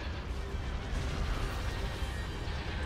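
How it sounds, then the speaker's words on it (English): A concentrated artillery barrage in the Star Wars Empire at War game: dense, continuous rumbling booms and crashes at steady loudness, with no distinct gaps between impacts. "I'm gonna fire for maximum effect. And I am going to concentrating barrage."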